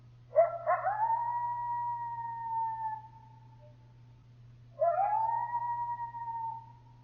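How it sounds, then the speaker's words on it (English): Two long, wavering coyote howls rising then sliding down, with a pause between, over a low steady hum. "Howls are used to keep in touch with other coyotes in the area"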